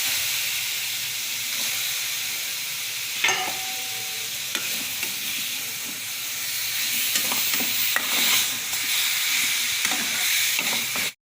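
Pallipalayam chicken frying in a hot pan with onions, a steady loud sizzle broken by repeated scraping and stirring clicks of a spoon against the pan, no voices.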